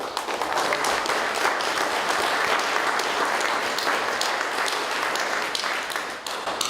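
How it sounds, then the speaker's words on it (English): Sustained applause from an audience at a 2019 graduation ceremony for graduating students, dense steady clapping from many hands that fades slightly near the end, with no talking over it. "I think they just deserve a round of applause for."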